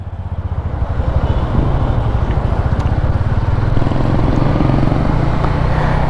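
A Honda Winner X 150 motorcycle ridden on a road in Tagaytay, its engine droning loud and close with a steady pulsing rhythm as it builds up and holds speed, no voices over it.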